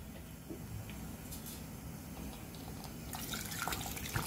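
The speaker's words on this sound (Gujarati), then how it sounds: "હવે આપણે આમાં પાણી નાખશું," Water poured into a pressure cooker holding raw chickpeas, a faint steady trickling splash that grows fuller toward the end, with no talk.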